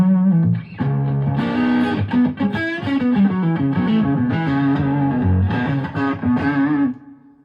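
Electric guitar through a Fender Deluxe Reverb tube amp, a run of chords and single notes with slight grit and reverb, fading out at the end.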